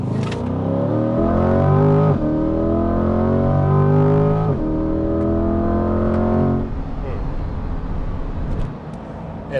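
A Corvette C8's 6.2-litre LT2 V8 revs hard through a street curve, loud and close, its note rising in repeated pulls with brief drops between shifts before easing off near the end.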